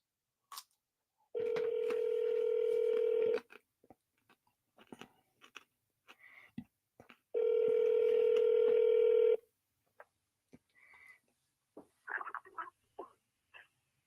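A telephone call rings out with two long, steady electronic ringback tones a few seconds apart, close and clear. Soft clicks, rustles and handling noises fill the gaps between the tones.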